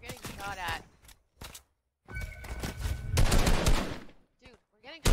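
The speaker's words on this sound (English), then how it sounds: "Dude, we're getting shot at." Rapid automatic gunfire rattles in Fortnite, dense bursts mixed with excited talking, loudest in the middle stretch and trailing into scattered shots.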